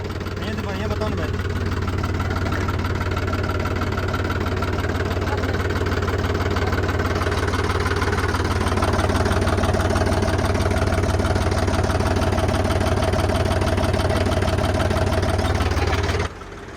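A Mahindra Yuvo tractor, tied to a pickup, idles with a steady, loud, close-up engine drone that holds unchanged for about sixteen seconds before cutting down slightly at the end.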